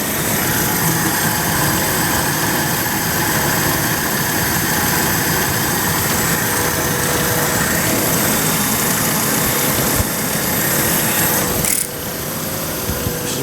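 Car engine fitted with a newly installed B20 VTEC running steadily, a loud, continuous idle close by with a slight dip near the end.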